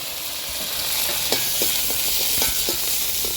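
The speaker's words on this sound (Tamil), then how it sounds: "வெங்காயமும் ஒரு 10 வெங்காயம், ஒரு 10 பூண்டு போட்டு நல்லா வதக்கிக்கலாம்." Chopped onions and garlic sauté in hot oil with a loud, close crackling sizzle, broken by several soft scraping stirs of a spatula at irregular intervals, with no voices.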